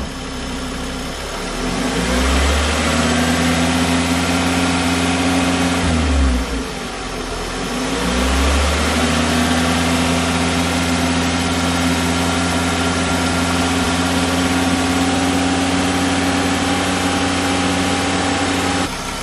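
A car engine warmed up to operating temperature runs close by, a steady idle that swells into a brief rev midway and then settles back to a smooth, even hum.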